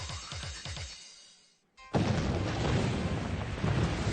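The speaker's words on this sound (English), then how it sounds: "Explosions." A powerful explosion bursts in after a brief near-silence, a loud broadband blast that rolls on into a sustained roaring rumble; some rhythmic low thuds precede it.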